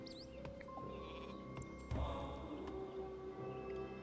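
Sheep bleating in the Viking strategy game Northgard, a few short bleats over a steady bed of game music and ambient tones, moderately quiet.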